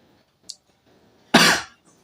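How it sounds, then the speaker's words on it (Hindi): A single harsh cough from a male lecturer during a Hindi-language linear algebra class, loud and close, after a faint click, with quiet room tone on either side. "हाँ, थोड़ी खांसी आ रही है"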